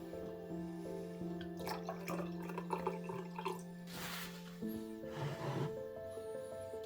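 A splash of mead is poured into tea, giving a few light, close dripping and trickling sounds over a steady background hum, with no talking.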